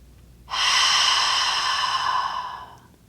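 One long, deep exhale during a leg and hamstring stretching exercise, close and breathy, starting abruptly and trailing off over about two and a half seconds in a quiet room.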